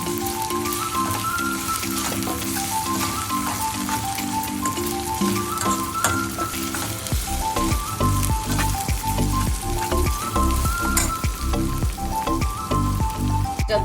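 Ginger garlic paste and coriander powder fry in a pan for a South Indian crab curry, a loud continuous sizzle with stirring clatter throughout.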